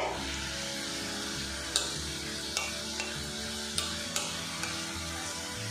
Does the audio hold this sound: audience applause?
no